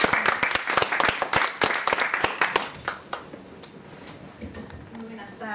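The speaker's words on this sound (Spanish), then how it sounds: "Un aplauso para ella, por favor." At the JIAP 2015 academic conference at ITESM, an audience bursts into close, distinct clapping that thins out after about three seconds into scattered claps and room quiet.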